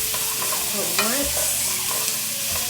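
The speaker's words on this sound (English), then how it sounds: "this meat stops browning, the hard part of this will be over." Meat browns in a hot pan with a steady, close sizzle and frying crackle, joined by a few scraping stirs partway through.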